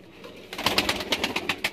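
Rampuri pigeon cooing up close in a loft, a short run of repeated soft throaty pulses following a brief quiet start.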